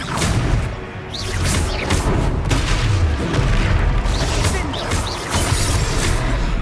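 Confringo spell blasts in Hogwarts Legacy boom and whoosh loudly amid a dense, continuous battle din of crashes and rumbles, close and intense, with voices mixed in.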